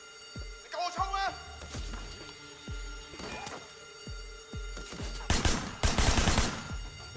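Gunfire in the Sleeping Dogs video game, repeated sharp pistol shots spaced about a second apart, then a denser burst of shooting near the end, with voices talking in between.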